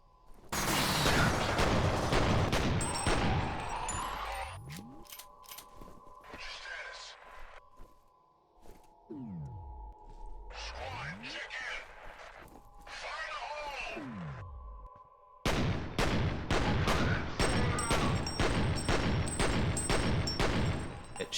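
Video game gunfire comes in loud, rapid bursts of shots with whooshing effects and sweeping tones, broken by short quieter gaps, and voices talk over parts of it.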